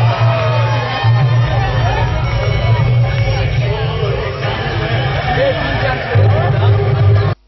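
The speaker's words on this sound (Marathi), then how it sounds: "ही स्पर्धा पाहण्यासाठी लोकांनी गर्दी केली होती" A crowd gathered in Belgaum to watch a curd-pot breaking competition between ten teams, heard as loud, continuous babble and cheering. A low, steady drone runs underneath and cuts off at the end.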